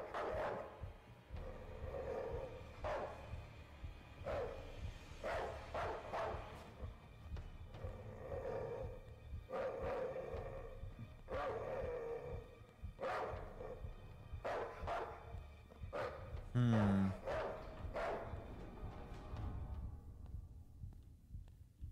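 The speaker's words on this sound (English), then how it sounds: "I really hope they stop at the barking." A dog in a video game barks repeatedly at a steady pace, about once every second or two, with a sharper yelp near the end, over a low rumbling background.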